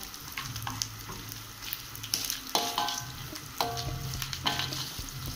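Candlenut and lemongrass sizzle and fry in a pan while being stirred, a steady close crackle broken by repeated scraping stir strokes, with no talking.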